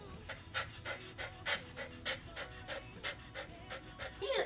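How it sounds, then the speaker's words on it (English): A dog pants steadily in quick, rhythmic breaths, about two per second, close up but fairly quiet, with no talking. "Dogs pant to regulate their body temperature."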